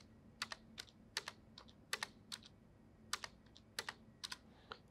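Keystrokes on a computer keyboard while entering a generator matrix in MATLAB, a steady run of sharp, close clicks in uneven bursts with brief pauses, heard alone without talk.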